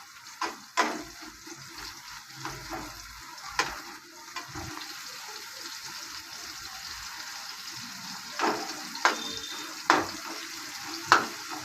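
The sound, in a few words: onion and chili frying in a pan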